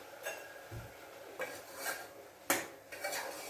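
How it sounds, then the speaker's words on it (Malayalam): A spoon scrapes and clinks against a cooking pot while masala is stirred, a few separate close metallic scrapes with a sharper knock partway through, no voices. "ഇളക്കുക,"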